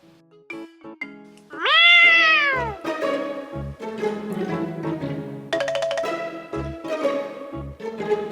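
A person imitates a cat meowing, one long drawn-out, wavering meow followed by shorter, rougher mewing sounds, close and loud, with no other talk.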